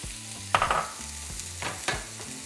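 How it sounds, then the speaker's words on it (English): Half an onion fries in two tablespoons of oil in a skillet, a quiet continuous sizzle broken by a few sharp stirring clatters. "I'm just going to return 2 tablespoons. And now we're going to be adding half of an onion"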